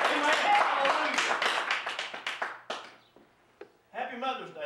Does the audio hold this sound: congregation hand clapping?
yes